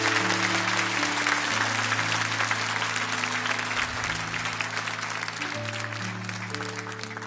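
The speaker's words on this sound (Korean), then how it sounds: "우리 다시 한번 장로님들 박수로 좀 격려해 주시기를 부탁드리겠습니다." A church congregation applauds its elders in a steady burst of clapping, with sustained organ or keyboard chords ringing beneath the applause throughout.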